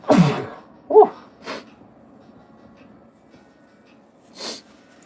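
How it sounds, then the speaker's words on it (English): A person sneezes loudly and close by, a sharp burst followed by a few smaller snorts and sniffs, then a final breathy exhale after a pause, during a break from opening Pokémon card packs. "I gotta sneeze, man."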